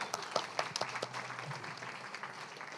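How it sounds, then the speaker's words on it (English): Audience applause at a poetry reading in Tucson: soft, fairly faint clapping from a modest crowd, sharper claps at first and then tapering toward the end. "So a round of applause."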